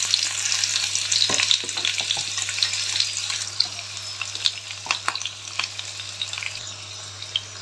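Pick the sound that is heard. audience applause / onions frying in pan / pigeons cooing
onions frying in pan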